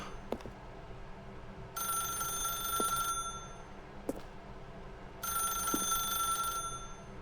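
An old-style telephone bell rings in two long bursts with a pause between, fairly faint, inside the video game The Stanley Parable, with a few soft clicks around it.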